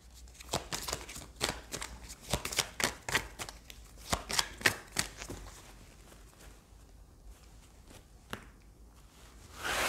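Tarot cards shuffled and laid down during a reading, a run of quick papery flicks and slaps in bursts over the first half, then softer scattered handling with a final snap, close and fairly clear with no talk.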